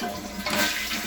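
A toilet being flushed during a WC change-out, a brief loud rushing gush of water close by, with no talking.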